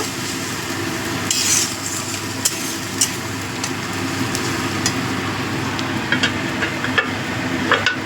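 Bean seeds frying and being stirred in a pan with a little water for a Bengali dal shukto, giving a steady soft sizzle with scattered scraping clicks of a spoon throughout, close by and with no talking.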